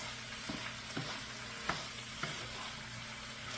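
Rice stirred in a hot pot, a soft constant sizzle with a few light scraping strokes of a utensil at irregular intervals, close and quiet, no talking.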